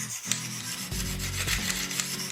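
A kitchen knife drawn across a whetstone at a 20 degree angle, steady scraping strokes back and forth, close and quiet with no voices.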